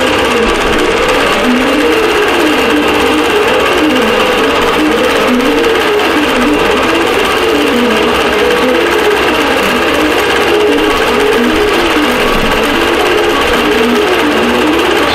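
A computerized quilting machine stitches a quilt block with cream thread, a loud continuous whirring motor hum with a rhythmic rising and falling drone as the needle travels.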